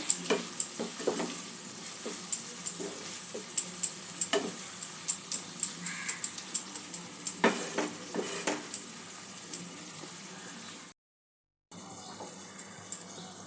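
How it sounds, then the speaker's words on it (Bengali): Chicken stirred and fried with spices in a pan gives a steady sizzle, with repeated scraping stir strokes in an uneven rhythm, close up, briefly cut out near the end. "সমস্ত মশলার সঙ্গে চিকেনটা একটু ভালো করে মিক্স করে দেব।"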